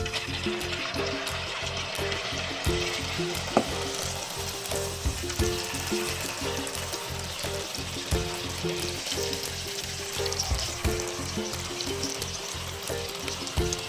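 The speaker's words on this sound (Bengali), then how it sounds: "এই যে জিলিপিগুলো এবার ভেজে নেবো" Jalebi batter fries in hot oil with a continuous bubbling sizzle that holds steady and close throughout, and no voices are heard.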